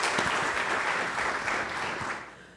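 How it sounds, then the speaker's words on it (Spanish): An audience at a Colombian cost-management congress applauds a speaker with sustained, even clapping that tapers off near the end. "de nuevo un aplauso por su amable participación"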